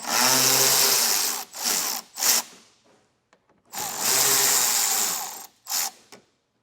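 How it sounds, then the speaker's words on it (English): A cordless power tool backs out screws under the wheel well of a 2023 Buick Encore, two close whirring bursts, each followed by short stuttering spins, with a quiet gap between them. "On the bottom of our wheel well here, we have 2 more of the same screws to remove."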